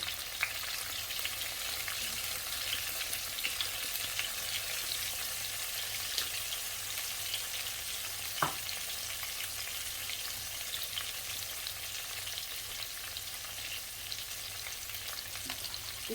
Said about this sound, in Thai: เก็บมาแล้วก็ต้องผัด ให้สุกให้ดูทุกคน